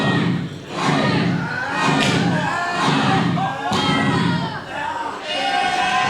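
A wrestling crowd at an Asylum Pro show cheers and shouts for the tenth entrant of a match, a loud continuous roar in swelling waves, with thuds from the ring and a commentator talking over it.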